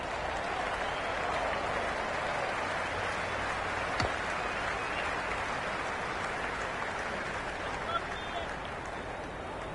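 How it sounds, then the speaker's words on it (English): A cricket ground crowd in the Cricket 26 video game sends up a steady wash of applause and cheering, loud and continuous throughout. "It's pretty noisy at the ground."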